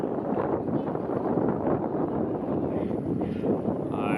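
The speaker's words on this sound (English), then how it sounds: "Very windy here." Steady wind buffeting a microphone at a varsity baseball game, a loud continuous rumbling roar with gusty fluctuations throughout and no other clear sounds.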